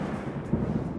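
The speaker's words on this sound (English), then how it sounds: "There's more Florida thunder." Low rumbling thunder over Florida, a steady deep roll lasting about a second with a slight swell partway through, with no one talking.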